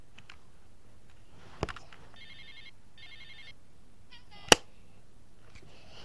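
A telephone rings in a video game mod: two short bursts of bright, trilling electronic ringing. The ringing is fairly faint, with a couple of sharp clicks before it and another after it.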